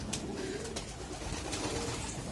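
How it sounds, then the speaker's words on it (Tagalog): Young racing pigeons coo softly in a loft, low throaty calls repeating over quiet background noise. "Ayan sila mga kalapatid."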